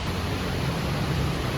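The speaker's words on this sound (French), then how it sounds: "C'est le bruit de la pluie." Heavy rain falls in Ayutthaya, Thailand, a dense, steady hiss of broadband noise that stays even throughout the short stretch, close and fairly loud with no voices.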